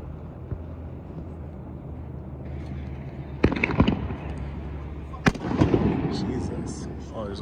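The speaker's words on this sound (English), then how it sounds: "Oh, there's a firework like right here next to us. So loud." A firework goes off close by outdoors during a total solar eclipse in Buffalo, NY, giving a few loud sharp bangs and crackles over steady crowd murmur, with people talking throughout.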